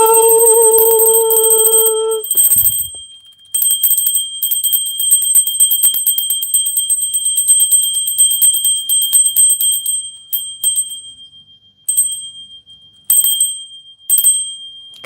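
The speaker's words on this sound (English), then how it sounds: "Ring my bell. Ring my bell." A small bell rings in a clear, bright tone, a sustained ring at first, then quick repeated jingling shakes through most of the stretch, breaking into short separate bursts toward the end, loud and close with no voices.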